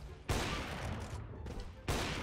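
Gunfire in the Counter-Strike: Global Offensive (CS:GO) video game comes as loud, sharp bursts. Two heavy shots land about one and a half seconds apart, with dense rapid fire and clatter filling the gap between them.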